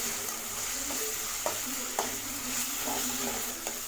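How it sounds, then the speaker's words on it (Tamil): Tomatoes with a few mint leaves frying in a pan for mutton dalcha give a steady, fairly loud sizzle, broken by occasional soft scrapes and taps of stirring, with no talking. "தக்காளி வதங்கும் போதே 4-5 புதினா இலையில் சேர்த்துக்கங்க, நல்லா மணமாக இருக்கும். ஆனால் தக்காளி இன்னும் நமக்கு கொஞ்சம் வதங்கணும்."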